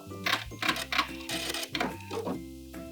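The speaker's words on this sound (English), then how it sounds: "zigzag stitch is going on and off the raw edge of the fabric, covering it up." Sewing machine running a zigzag stitch along the raw edge of stretchy swimsuit fabric, short close bursts of rattling mechanical stitching that start and stop, quiet and with nobody speaking.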